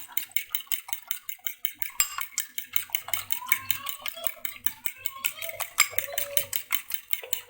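Burger ingredients and salt being mixed by hand in a bowl, with a steady run of repeated scraping and clinking strokes close up; a voice speaks briefly now and then.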